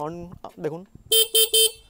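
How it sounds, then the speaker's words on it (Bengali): Three short, loud horn beeps from a 2025 Honda SP125 motorcycle in quick succession after someone speaks briefly; a thin, high-pitched toot close by. "এখানে হচ্ছে আপনার হর্ন আমি দেখিয়ে দিচ্ছি, দেখুন"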